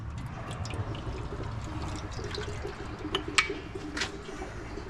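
Engine oil drains from the 1 1/8-inch sump plug opening of a 1980 Triumph TR8, a steady pouring, trickling stream running continuously at close range with a few brighter splashes and drips.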